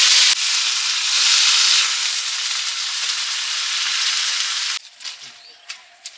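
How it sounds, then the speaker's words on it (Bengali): Vegetables dropped into hot oil with bay leaf and cumin seeds, village-style cooking: a loud, steady broadband sizzle for about five seconds that then drops abruptly to quieter intermittent crackles. "এই যে সবজিগুলো সব দিয়ে দিচ্ছি।"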